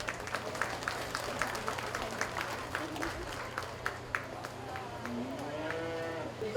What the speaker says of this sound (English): Please give him a round of applause if you would.